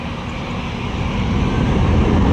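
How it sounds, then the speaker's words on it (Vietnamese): A Vietnam Airlines Airbus A321 takes off at Saigon, its jet engines a loud, broad roar that swells steadily as the aircraft powers up, with no talking. "Bây giờ máy bay cất cánh."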